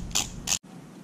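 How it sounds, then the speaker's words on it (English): A torque wrench handle is twisted to set 250 inch-pounds, giving two short, close scratchy mechanical bursts before an abrupt cut to near quiet. "Take my torque wrench. I'm going to set this to 250 inch-pounds."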